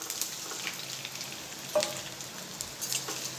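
Patra rolls frying in a hot tempering of oil with sesame seeds, a soft, steady sizzle running throughout with a brief louder crackle partway through.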